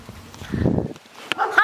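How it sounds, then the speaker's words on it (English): A dog gives a short burst of low barking and huffing close by, followed by a few quick clicks and thin whimpering sounds. "It's my dog"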